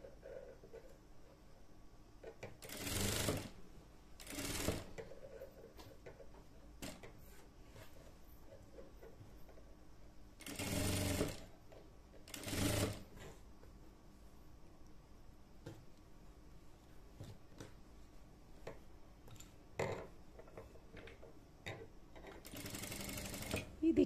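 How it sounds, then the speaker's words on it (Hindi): Sewing machine stitching a frill around a satin protective bonnet, several separate bursts of rapid mechanical clatter with quiet pauses between them, fairly close, while someone talks softly in the gaps. "राउंड राउंड से फ्रिल डालेंगे फ्रेंड। तो फ्रिल में मशीन से मोटी सिलाई करके"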